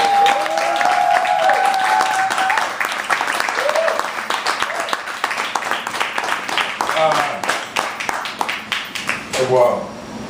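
An audience at a poetry performance breaks into sustained applause, close and loud, with scattered whoops and voices over the clapping before it thins into a few final claps.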